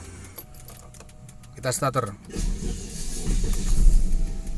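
Key turned in the ignition of a 1994 Volvo 960 GL with a non-turbo 2.3 automatic: a rattling crank burst, then the engine catching into a steady low idle, with speech over parts of it.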